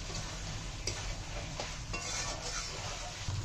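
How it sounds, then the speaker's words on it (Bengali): Fried potatoes are stirred into masala in a pan, giving faint scraping and soft sizzling with a few sharper clicks of the spoon against the pan. "এই আলুটা দিয়ে আবার খানিকক্ষণ কষিয়ে নেবো"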